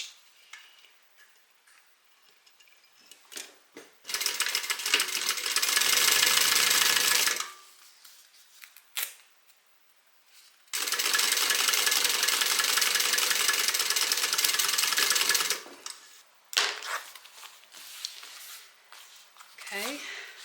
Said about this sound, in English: I just want to make sure it's as straight as possible. And make sure you backstitch.